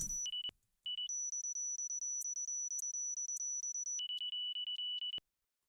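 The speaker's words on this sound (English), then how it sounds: "let's just listen to this beep" A high sine-wave synth beep made in the Serum plugin, prepared for a techno track, sounds alone as a rapid, pulsing stream of pure electronic tones that hops between two pitches, bright and clean, with brief gaps.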